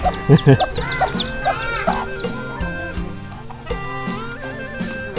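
Chickens cluck and a rooster calls near a Thai or Lao village home, several clucks and squawks close by at the start, then fainter bird sounds over a steady background with music-like tones.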